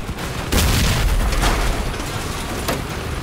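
Enemy gunfire in the vehicle combat game Crossout booms in several heavy, loud bursts over constant rumbling battle noise, with no voices.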